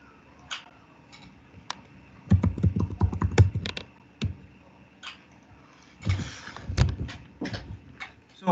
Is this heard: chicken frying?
no